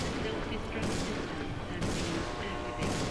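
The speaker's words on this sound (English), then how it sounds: "we're going to go ahead and shoot it with Rebecca" Gunfire from shooting a boss in Resident Evil 0, a dense continuous volley of game shots with heavy rumble, with a few louder bursts cutting in.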